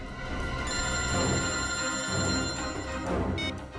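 A telephone rings steadily with a bright electronic trill, sounding out over a dense background of music or noise, continuing for several seconds.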